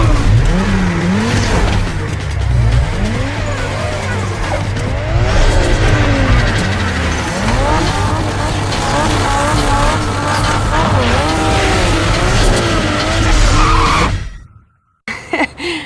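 Cars in the racing video game Need for Speed Underground roar past with rising and falling engine revs and repeated tire squeals and skids, loud and continuous, ending in a brief silence near the close.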